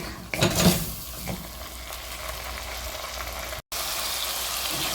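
Tomatoes and onion sautéing in a pan for a Tamil pepper garlic curry, a soft steady sizzle with a brief stir and clink of a utensil near the start, fairly quiet and alone.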